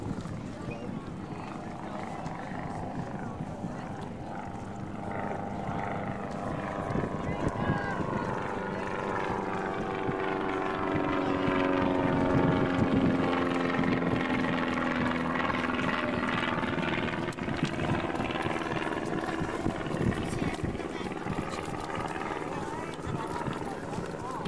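Canadian Forces Snowbirds aerobatic jet, the team's fifth backup aircraft, roaring overhead at the 2003 Kern County Airshow, a steady engine drone with a rising and falling whine that swells mid-pass, under a commentator's voice.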